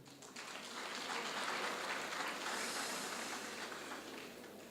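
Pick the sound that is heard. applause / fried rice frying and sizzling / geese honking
applause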